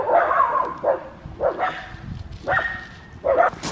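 Several puppies bark in short, sharp bursts, about five yaps spread over a few seconds, close by and loud with brief pauses between them, outdoors at a house.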